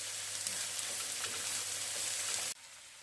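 Potatoes sauté in a pan with a steady close sizzle that cuts off abruptly, leaving only a quieter hiss at the end, with no voices.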